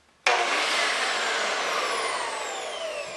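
A Milwaukee metal-cutting circular saw with its blade guard removed switches on abruptly and runs freely without cutting, a sharp onset into a loud high whine that slowly winds down in pitch and level.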